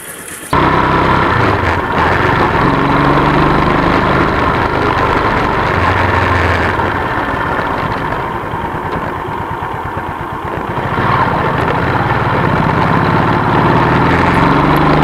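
Keeway CR152 motorcycle engine running steadily during a test ride, a continuous loud mid-to-low drone with a slight dip in intensity midway before returning to full level, no talking.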